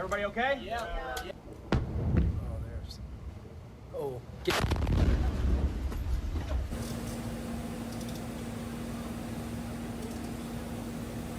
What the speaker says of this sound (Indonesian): Rudal Iran meledak hanya beberapa meter dari posisi tentara Amerika Serikat.